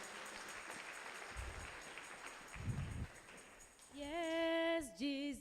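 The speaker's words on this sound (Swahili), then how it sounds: "Tuwapigia makofi wakienda kwa chini." A church congregation at a Kikuyu Christmas Sunday service claps, moderate and somewhat distant, fading before sustained singing voices come in toward the end.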